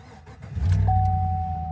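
A Chevy Silverado engine cranks and starts with a booster pack connected, rising quickly to a loud, steady idle with a thin electronic whine above it.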